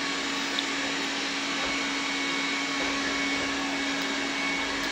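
A washing machine churns through a load of white laundry with a steady, continuous motor whir and a constant hum, close and loud, running alone without pause.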